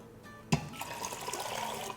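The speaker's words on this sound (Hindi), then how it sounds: "तो ये मैं रिंस कर रही हूँ, दाल चिपक गई है।" Water pours and splashes into a pot while lentils (dal) are rinsed in a home kitchen, a knock followed by steady close running and sloshing.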